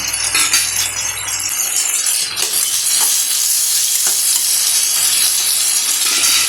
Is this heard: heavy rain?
no